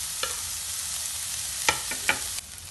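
Ginger, green chili and garlic cloves hit hot oil with already-browned onion for a dhaba-style onion tomato chutney, giving a steady close sizzle with a few sharp spoon scrapes and clinks against the pan.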